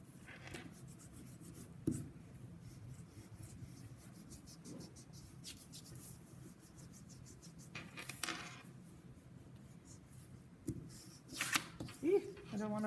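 A pink eraser rubbing pencil marks off paper, a faint soft scratchy scrubbing that runs steadily in quick strokes, with a few louder taps and rustles.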